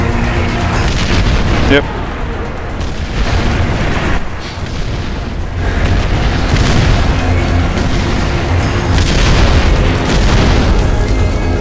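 Artillery shelling in Far Cry 4: repeated heavy booming explosions rumble one after another, loud and close, with brief speech heard between the blasts.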